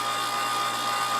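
Steady high whine of a case trimmer cutting back the mouth of a GP11 cartridge case, a continuous close whirring tone with no pauses.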